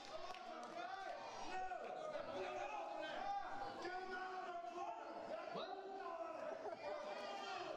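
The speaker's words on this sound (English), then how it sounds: "Harder to hear me over the crowd now" A wrestling crowd roars and chatters continuously throughout, a dense, loud wall of voices with scattered shouts and a few thuds rising out of it, and a voice talks over the din.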